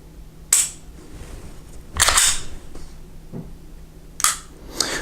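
A Canik TP9 SF Elite pistol fires at a shooting range, with three sharp, separate reports spaced a second or two apart, each followed by a short fading echo against quiet background noise.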